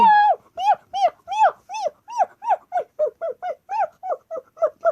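A dog barks repeatedly in a fast, steady series of sharp yaps, close and loud, with a growly edge between barks.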